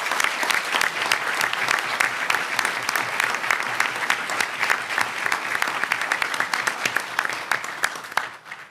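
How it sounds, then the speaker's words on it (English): Sustained applause from a city council meeting audience, steady and dense clapping from many hands that holds evenly for several seconds before trailing off at the end. "Let's give a round of applause to each of the departmental recipients."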